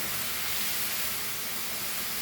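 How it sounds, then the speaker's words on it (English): A vegetable stuffing of cheese and corn for Goan stuffed snake gourd sautés in oil in a pan, giving a steady, even hiss that fills the clip without pause or voices. "We'll saute this for few minutes."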